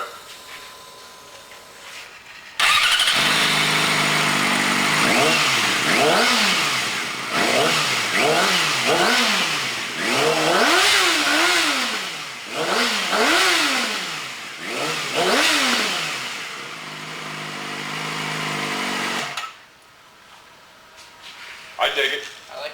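Sportbike fitted with a Hotbodies MGP slip-on exhaust starts and revs repeatedly, each blip of the throttle rising and falling in a loud, close engine roar for about seventeen seconds before cutting off, with people talking briefly at the end.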